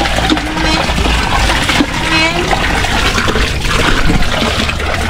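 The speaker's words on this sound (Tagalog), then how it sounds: "Maganda yung gripo nila din." Water runs steadily from a faucet in a bathroom at a house hosting a town fiesta in Bato, a continuous close hiss with faint voices in the background.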